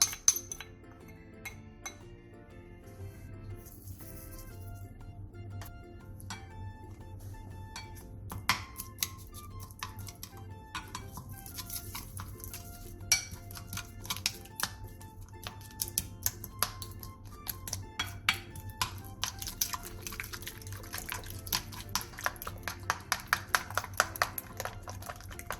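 A whisk or utensil clinks repeatedly against a bowl while two eggs are mixed with green onion, salt and minced garlic. The light tapping is close and irregular, and it gradually gets busier over a quiet background.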